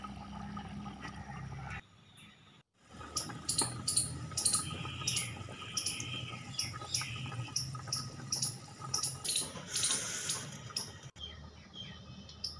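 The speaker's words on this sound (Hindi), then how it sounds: "थोड़ा इसमें पानी ऐड कर दें।" Water is poured into a cooking pot of chicken for haleem, a soft splashing stream that runs in uneven bursts after a brief pause, close and fairly quiet.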